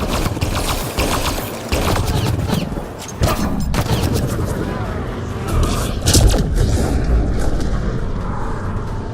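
Sustained gunfire in Mass Effect Andromeda, during a raid on exiles on Elaaden: loud, dense rattling volleys and booming impacts run throughout, with voices talking over the firefight.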